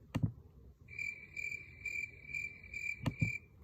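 A cricket gives a steady high trill in short repeated pulses for about two seconds. It is faint and fairly close, with a few soft bumps and taps before and after.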